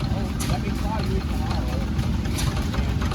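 An old stationary engine with a flywheel runs at a steady idle, a continuous low chugging rumble at moderate distance, with people talking over it throughout.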